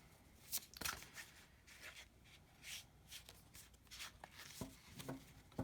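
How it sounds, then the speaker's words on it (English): Tarot cards being shuffled by hand during an evening reading, irregular papery riffles and soft slaps in scattered bursts, close and fairly quiet, with no talking. "I'm really feeling challenged with my shuffling tonight."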